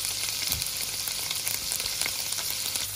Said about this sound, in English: I'm just going to brown off some of my tofu. And I've got a little bit of olive oil in there